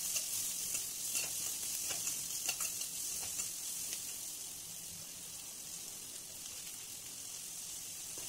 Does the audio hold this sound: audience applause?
no